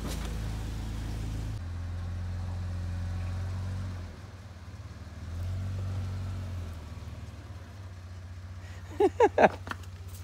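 A Toyota FJ80 Land Cruiser engine labours in gear on an off-road climb, a low droning rumble that rises and falls with throttle changes, followed near the end by brief voices.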